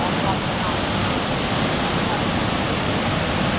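Raging river water rushes beneath an old rickety bridge, a loud steady broadband roar throughout, close and continuous, with a voice speaking over it.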